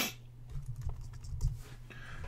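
Quiet, brief patter of fingers typing a search query on a computer keyboard, a few soft irregular clicks close by.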